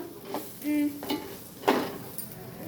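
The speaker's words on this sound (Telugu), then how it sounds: "ఇప్పుడు కలిపేసుకో శుభ్రంగా జాగ్రత్త క్లాత్ పట్టుకొని కలుపుకో" Food being stirred in a home cooking pot, with a few brief, faint scraping and clinking strokes against the pot, one slightly longer ringing scrape, and quiet gaps between them.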